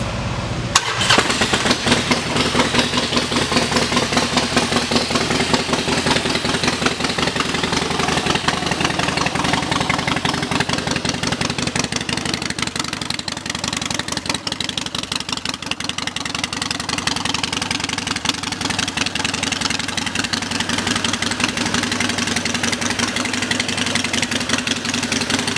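Harley-Davidson 2011 XL1200X Sportster Forty-Eight, 1200cc V-twin with about 6,434 miles, idling through its exhaust pipes: a steady, loud, lumpy rumble that starts abruptly and holds for the whole stretch with no talk.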